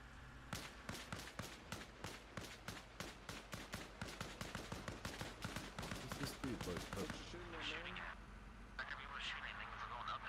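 Rapid, loud gunfire from the video game Arma Reforger: a dense run of close shots and bursts for about seven seconds. The shooting then thins out as voices talk over the fading noise.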